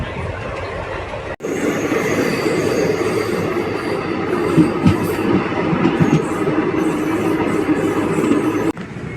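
The Sapthagiri Express runs along an elevated track, a steady loud rumble of wheels and carriages with faint rhythmic clatter and a brief squeal, heard from on board without talk.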